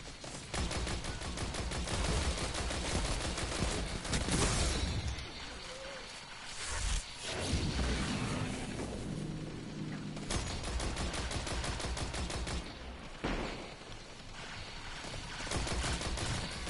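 Sustained automatic gunfire in the video game Destiny 2, long rattling bursts of rapid shots broken by brief pauses and shifting in intensity, loud and close, with game effects mixed in and no speech.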